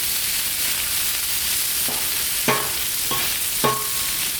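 Potatoes sizzle steadily on a Blackstone griddle outdoors in the rain while a spatula scrapes and stirs them in a few quick, close strokes over the constant frying hiss.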